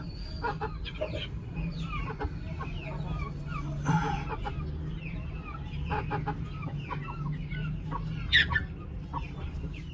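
Hens cluck again and again at close range, with small bird chirps scattered through a steady farmyard background.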